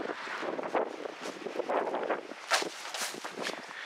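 Gusty wind blows at a site with two HY Energy wind turbines, buffeting the microphone in a steady broadband rush with uneven surges and variable strength throughout.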